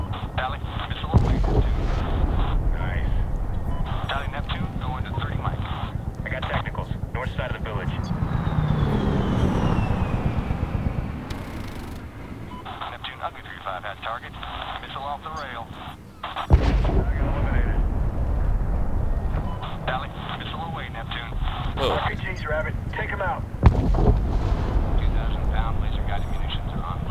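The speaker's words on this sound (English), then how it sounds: "Alley, missile away." A missile launch and explosion in the Medal of Honor video game, with a rising whoosh, a deep boom and heavy rumbling blasts under game voices and radio chatter, ending in a sharp explosion near the end.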